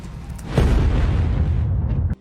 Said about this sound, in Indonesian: Setelah terjadi ledakan hebat, keduanya keluar dalam posisi terbakar hidup-hidup.